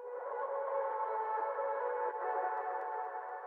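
A smeared, washed-out tone hums steadily in the midrange, processed with heavy echo and reverb so it sounds like a warped, reversed voice.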